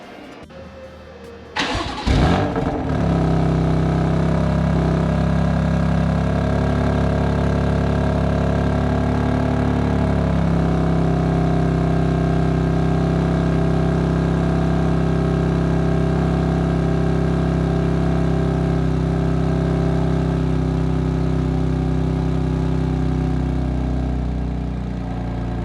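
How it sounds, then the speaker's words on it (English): A 2020 BMW M2 CS fires up with a sharp starter crank and loud flare, then settles into a steady, rumbling high idle that eases slightly lower, close and sustained with no talk. "So we're gonna do a startup for you so you guys can know what this thing sounds like."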